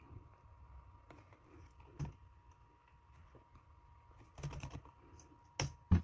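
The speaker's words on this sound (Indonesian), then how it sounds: "Kita ketik ya." Quiet keystrokes on a computer keyboard, a few scattered taps with small clusters of clicks against a faint steady hum.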